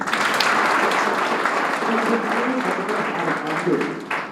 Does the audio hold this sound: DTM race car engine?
no